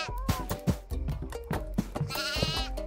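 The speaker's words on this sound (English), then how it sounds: "But we need to get 10 goats. She's making noise." Goats bleat repeatedly in the video game Goat Simulator, several wavering, nasal calls in quick succession, loud and close with little else beneath them.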